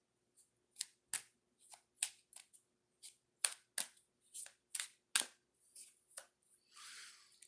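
Tarot oracle cards being shuffled and drawn: a quiet series of sharp, crisp card snaps and flicks in irregular rhythm, close up, ending in a soft brushing slide.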